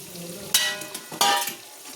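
Pre-fried chicken pieces being sautéed in a spice masala, with a soft steady sizzle punctuated by two sharp bursts of stirring and scraping against the pan, close up.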